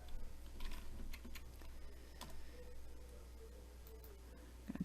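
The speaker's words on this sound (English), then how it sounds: "I'm going to type in my password." Keys on a computer keyboard are tapped in short irregular bursts as a password goes in, faint and close against a quiet room.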